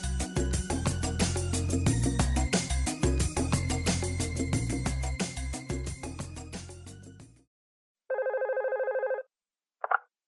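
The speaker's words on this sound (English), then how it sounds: "we're going to listen as Julie calls her boss to tell him she's sick" A telephone rings in a staged phone-call dialogue, with a steady ringing pattern for about seven seconds, then a short electronic tone burst and a brief blip as the line connects.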